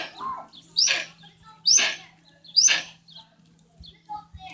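Pet bird at home giving three loud, bright chirps about a second apart, close to the listener, followed by softer scattered calls and a faint steady hum underneath.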